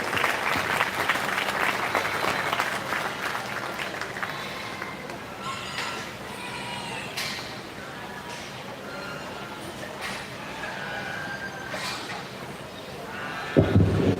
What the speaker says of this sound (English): I think they all deserve a round of applause.